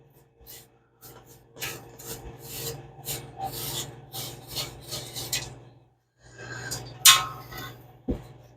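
Small broom sweeping across the dashboard of a 1930 Chevrolet, a run of close, dry scratchy brushing strokes in uneven rhythm, a short pause, then more strokes ending with a light clink.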